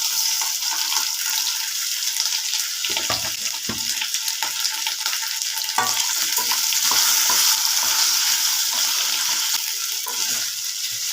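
Lengthwise-cut potato pieces fry in a pan over a low flame, giving a steady, close sizzle with occasional stirring scrapes throughout, no voices.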